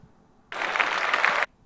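A short burst of applause, about one second long, starting abruptly and cutting off cleanly, moderately loud with no voices.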